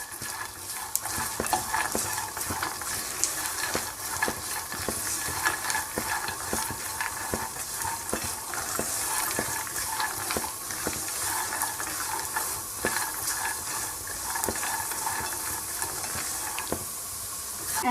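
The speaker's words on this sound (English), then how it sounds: "I am adding 2 tablespoons of roasted chana dal or roasted gram. Keep stirring it" Roasted chana dal is stirred in a pan on low flame, giving a steady hissing sizzle punctuated by regular soft scraping and rattling strokes throughout.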